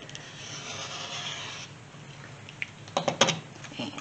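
Quilt fabric is cut into strips along a 3 inch ruler, giving a soft rubbing stroke for over a second, then a short pause and a cluster of sharper taps and clicks nearby.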